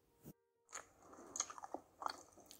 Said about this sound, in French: qu'on mâche un chewing-gum en classe